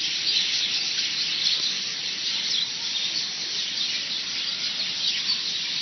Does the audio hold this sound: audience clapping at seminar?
no